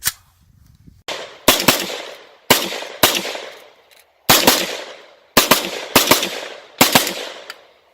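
.338 rifle shots at an outdoor shooting range, seven sharp, loud reports fired in fairly quick succession, each with a decaying echo tail, no talk over them.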